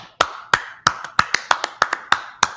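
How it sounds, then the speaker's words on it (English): Sharp, crisp hand claps at a class session, about nine distinct strikes in a steady, even rhythm, close and clear against near silence. "Clap it up"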